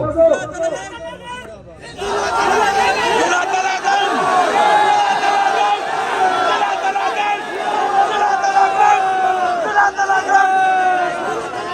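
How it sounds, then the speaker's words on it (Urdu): Large outdoor political rally crowd in Talagang, Punjab, roaring back a zindabad slogan in answer to a leader's call, a dense sustained wall of massed voices that swells after a brief opening and stays loud throughout. "زندہ باد کے نعرے کے جواب تو دو"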